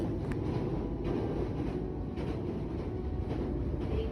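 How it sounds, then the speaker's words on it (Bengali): Inside a moving train in Japan, a low, steady rumble of wheels and carriage fills the whole stretch, fairly quiet and with no voices. "এখন তো ট্রেনের মধ্যে রয়েছি"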